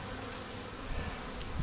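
Honey bees at a hive in a late-winter apiary drone in a dense, steady buzz, close and continuous, with a few louder passes near the end.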